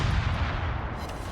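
Heavy naval gunfire from a USS Hull destroyer in a naval combat game, a dense rumbling blast with a booming low end that fills the whole short moment, loud and close.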